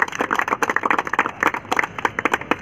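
Audience clapping in honour of a young man who passed an Indian Army physical test, a fast, uneven patter of many hands close by, steady for a few seconds with no talk over it.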